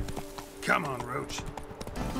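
Horse hooves clip-clopping as a rider travels in The Witcher 3: Blood and Wine, with a person talking over the steady hoofbeats throughout.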